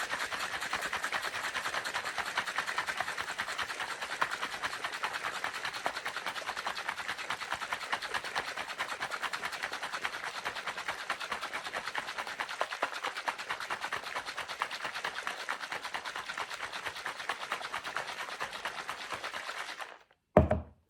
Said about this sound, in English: Put on the lid and then shake vigorously for 30 seconds